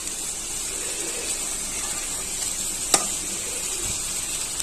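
Beef nihari masala frying in a pan, a steady soft sizzle and hiss running throughout with one sharp click partway through.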